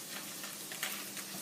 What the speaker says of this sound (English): I just want to saute the onion to make them soft.